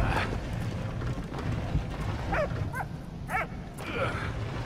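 A dog in the video game Valiant Hearts barks and yips in several short bursts over a busy game soundtrack and ambience, with a few whimpering notes in between.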